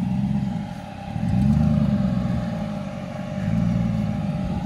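A GMC truck doing a burnout, its engine revving in two swelling surges over a steady low rumble, heard from some distance with no voices.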